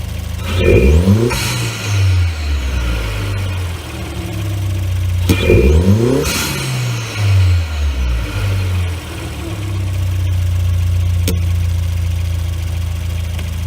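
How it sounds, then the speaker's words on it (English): A 2018 Ford Escape 1.5 EcoBoost turbo four-cylinder with modified intake revs up twice with rising turbo whooshes and whistles, then settles back to a steady idle rumble, loud and close. "You hear the turbochargers better. You hear the blowout valve better. It sounds so much better with an intake and exhaust system."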